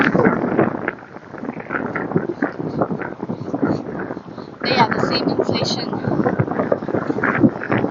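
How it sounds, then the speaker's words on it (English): Heavy wind buffets the microphone in rumbling gusts while a person keeps talking, the roar swelling louder partway through. "Oh, it's very windy."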